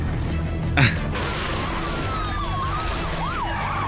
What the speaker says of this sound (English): You do not need that many police cars.